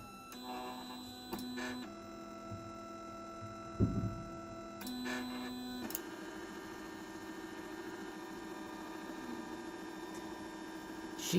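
An Anet ET4x 3D printer runs with whining stepper-motor tones that shift pitch as moves change, plus a steady hum and occasional soft knocks, heard close and fairly quiet.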